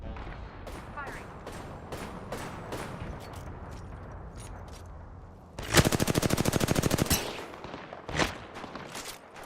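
Gunfire in Apex Legends: scattered single shots and short bursts, then a loud, rapid automatic volley lasting almost two seconds, followed by a few more shots, with faint voices in the background.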